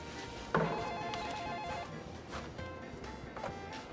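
A household telephone rings in an old-fashioned bell style, one trilling ring that starts abruptly and holds for over a second, with a faint background murmur and a soft later chime in a sitcom-style scene.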